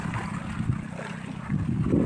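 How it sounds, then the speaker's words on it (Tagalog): Rough, windy sea water churns and slaps around a small boat, a continuous low wash with wind buffeting the microphone, close and fairly loud with no talk. "Mahangin pa, maalon pa."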